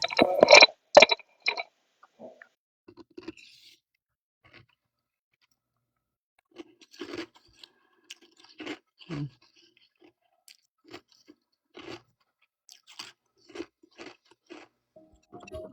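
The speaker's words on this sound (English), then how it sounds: "What you crunching on now? Still that salad?" Someone crunches on salad close to a phone microphone, a burst of loud crisp bites at first, then scattered softer chewing crunches and clicks spread through quiet gaps.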